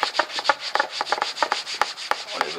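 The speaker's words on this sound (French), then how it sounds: "maintenant je frotte" Rhythmic rubbing strokes on a surface while cleaning off a greasy applied product during a Land Rover Discovery restoration, a steady series of short, close, scraping swipes with no talk.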